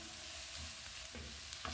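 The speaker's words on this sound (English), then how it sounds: "I'm also going to add my cabbage to it. Yes, I'm adding everything. Stir fry it very well." Cabbage stir-fried in a hot pan for keto low-carb noodles, a quiet close sizzle with scraping stirs, a sharp utensil clatter near the end.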